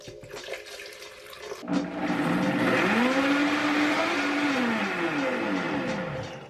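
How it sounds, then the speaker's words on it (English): Blender whirring as water is added to a thick ginger miso sauce, a brief tap-like splash first, then a loud, steady motor whine that shifts pitch as the mixture loosens. "So I'm gonna add some more water to it and blend it up."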